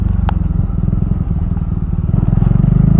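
A Benelli Leoncino 250 motorcycle engine revs up close and loud, its deep throbbing exhaust note rising and falling in a short burst.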